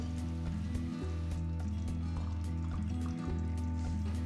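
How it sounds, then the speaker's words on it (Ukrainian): Freshly boiled water is poured into glass jars to sterilise them, a continuous close splashing and trickling with faint sizzling texture, fairly quiet and steady throughout. "Банки заливаю кипяченою водою, таким чином я їх простерилізовую."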